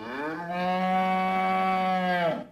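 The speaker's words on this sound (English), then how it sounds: "The cows have no beef with that." Cows give one long, full moo with a steady drawn-out tone, clear and alone with no talk.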